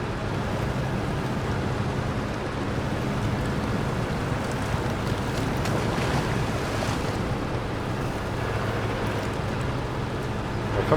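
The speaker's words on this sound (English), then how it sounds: "Gotta be careful about going in deep water with a Tuz" A Tuz truck in SnowRunner wades through deep water with a continuous rushing, sloshing wash of water and a low engine rumble underneath, steady and moderately loud throughout with no voices.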